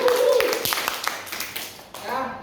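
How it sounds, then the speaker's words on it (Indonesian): Clapping from training participants at the close of a trainer session, a short burst of many hands clapping together with voices mixed in, fading out near the end. "Sekali lagi kita beri aplaus untuk kita semua."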